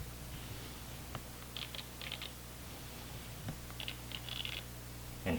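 Zoom motor of a Nikon D3200 lens buzzing in several short, soft bursts with small clicks between them, close-up indoors over a low room hum.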